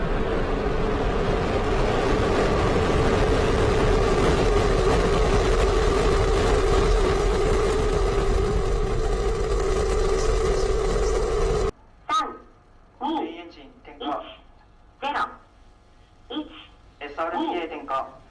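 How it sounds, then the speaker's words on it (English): Falcon rocket engines roaring at liftoff, a loud sustained broadband rumble that cuts off abruptly, followed by a voice speaking alone. "Liftoff of Falcon."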